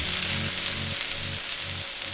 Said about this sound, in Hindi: हमने 1-2 मिनट तक इसको सौते करना है